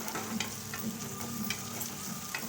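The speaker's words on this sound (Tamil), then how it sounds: "வெங்காயத்தையும் சேர்த்து நல்லா வதக்கிக்கலாம்" Sliced onion sautéing in a pan, a steady close sizzle with soft scraping stir strokes repeating throughout, no voices.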